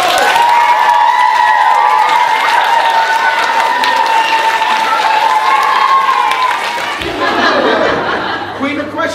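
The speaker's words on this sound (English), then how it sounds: "Give a big round of applause!" Children at North Duffield Primary applaud and cheer at a school event, with lively clapping and excited shouts that stay loud for several seconds, then thin out as a voice talks over the noise near the end.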